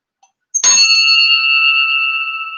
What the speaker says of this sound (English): All right, ring the little bell.